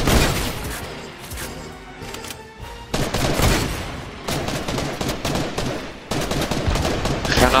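Rapid gunfire bursts in the Fortnite video game, repeated loud volleys of shots and automatic fire in clusters, alone without talk.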